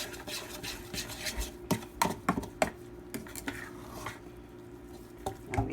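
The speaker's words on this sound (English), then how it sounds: "You just stir it like this" A spoon stirs thick self-rising cornmeal and flour batter in a bowl to work out lumps, giving irregular scraping clacks and knocks of spoon against bowl at close range, with no talking.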